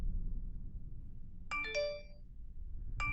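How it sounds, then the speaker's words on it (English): A phone chime plays a short multi-tone ringtone phrase over a low background rumble, with a second chime starting right at the end. "The chime sounded loud in the tomb-like silence of my room."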